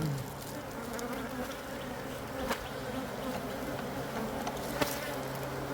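Honeybees swarm in a dense, steady buzz at the front of a hive during an inspection, close and continuous with a few sharper passes of single bees near the ear.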